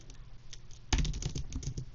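A computer keyboard sits nearly idle with a few soft taps, then a quick, close flurry of keystrokes breaks out and clatters on to the end.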